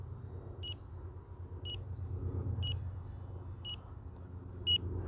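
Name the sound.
timer beeping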